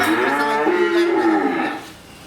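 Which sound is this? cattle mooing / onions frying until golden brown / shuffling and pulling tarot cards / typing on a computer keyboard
cattle mooing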